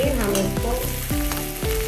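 Onion, cumin, chilli and ginger frying in refined oil in a kadai sizzle steadily under a person speaking throughout.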